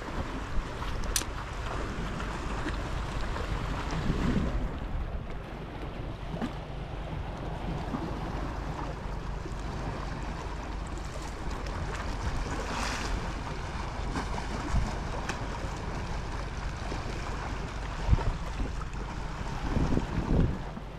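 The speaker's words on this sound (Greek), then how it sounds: "η θάλασσα είναι σωστά ανακατεμένη." Choppy sea at Methana in Greece, steady broadband wash of waves with wind rumbling against the microphone, continuous and fairly close, with no voices.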